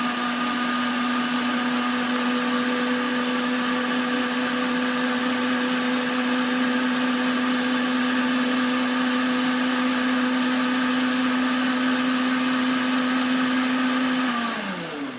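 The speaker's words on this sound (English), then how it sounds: "you want to put it on kind of a medium blend for about 20 seconds" A blender runs at medium speed on hollandaise sauce, a loud steady motor whine lasting about fifteen seconds, its pitch even throughout before it winds down and stops at the end.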